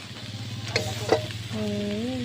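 Fermented fish paste (pla daek) fries in a pan with a steady close sizzle, two sharp stirring clicks and a brief tonal squeak toward the end.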